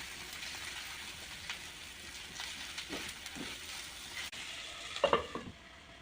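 Mutton spleen (tilli) fry cooks gently over a low flame, giving a soft, even crackle and hiss like light rain, with a few louder stirs and pops toward the end.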